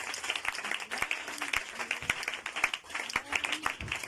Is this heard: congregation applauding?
yes